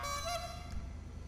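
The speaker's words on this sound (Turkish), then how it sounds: "Palyaço kornasını." A clown horn on a car in the video game GTA 5 honks in a short burst of bright, goose-like toots, loud and close, with no talk over it.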